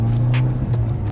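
A Mitsubishi EVO X GSR with a five-speed gearbox drives along public streets, its engine giving a loud, steady low drone heard close from inside the car.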